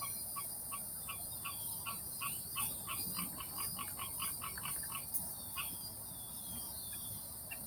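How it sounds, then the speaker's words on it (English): Crickets chirp in a park, a steady high pulsing trill repeating throughout at moderate distance over faint low background rumble, with no voices. "You can hear them crickling."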